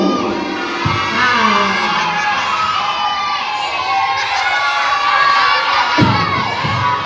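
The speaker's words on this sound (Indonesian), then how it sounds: "Ayo, coba mau dikasih semangat, mau tim favorit dulu. Ayo, teriak." A crowd of children shouts and cheers loudly for their favourite team at a religious-knowledge quiz competition in an Indonesian Islamic primary school, a dense, continuous roar with occasional thumps.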